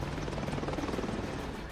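An Apache attack helicopter flying, its rotor producing a steady, rapid low chopping throb that stays even throughout the brief stretch.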